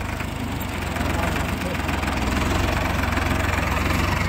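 A tractor engine idles steadily in low gear with a deep, continuous rumble and a faint regular knock, loud and close, while someone talks over it.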